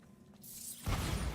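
Bombarda blasting spell in Hogwarts Legacy: a quiet whoosh builds up and then bursts into a loud, crackling, shattering blast near the end.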